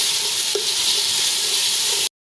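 Chicken kabsa with onion and tomato being stirred in a very hot pot, giving a loud continuous sizzle and frying hiss with a faint scrape of the spoon, and no voices.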